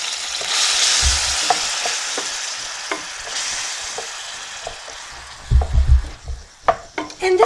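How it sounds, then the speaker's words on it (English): Onions and celery fry in olive oil in a pan, a steady sizzle with scattered stirring scrapes and clacks of a utensil, growing busier toward the end. "now I'm going to add the onions and the celery to my pan with the olive oil in there"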